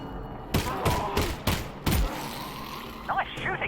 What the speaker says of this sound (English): Nice shooting, Alyx.